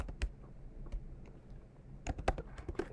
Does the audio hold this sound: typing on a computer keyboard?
yes